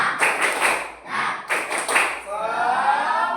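A group claps the Indonesian 'tepuk semangat' pattern during an ice-breaking exercise, with bursts of rhythmic clapping separated by short pauses and a voice calling along.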